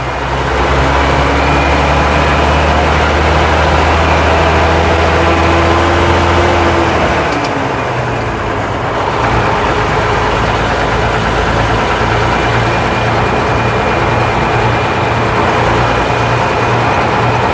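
A 1958 Leyland PD2 double-decker bus engine under way with manual transmission, a loud close low drone that drops away around a gear change midway, then returns with a pulsing throb, no talking.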